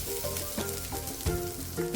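Mustard seeds, dried red chillies and grated coconut fry in hot coconut oil, giving a steady close sizzle with crackling pops and an occasional stir of a spoon in the pan.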